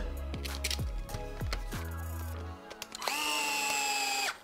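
A power driver with a 2.5 mm hex bit turns a ball stud on a Traxxas X-Maxx RC car, giving repeated short whirring bursts that wind down in pitch, then one longer high whine up close.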